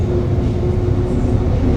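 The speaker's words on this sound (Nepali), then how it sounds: "अर्को खालि रेल रहेछ, कन्टेनर रहेछ यो, सामान राख्ने कन्टेनर।" A freight train of empty goods containers runs past a moving vehicle, producing a steady loud low rumble with a faint tonal hum, continuous and close throughout.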